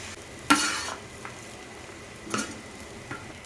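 Lemon rice is stirred in a pan after lemon juice goes in: a soft, low sizzle underlies a few distinct scrapes of a spoon against the pan, with quiet gaps between them.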